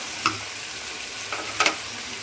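Coriander powder stirred into chicken and peas frying in a pan for a matar chicken curry: a few brief, soft scrapes over a faint, steady sizzle, close by and quiet.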